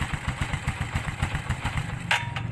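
Bajaj CT125 motorcycle engine running after an oil change, a close, steady idle with rapid regular thumping pulses and light mechanical clatter throughout.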